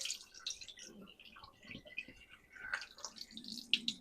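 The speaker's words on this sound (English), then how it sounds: "this first drain the water out." Water draining from soaked sweet rice: soft dripping and trickling in a quiet room, faint irregular drops and splashes that come and go close by.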